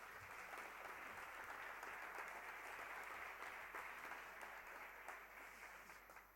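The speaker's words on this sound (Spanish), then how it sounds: "para que os pido un aplauso" Audience applause at a book presentation, a dense, even wash of clapping that holds steady throughout at a moderate distance, with no voices over it.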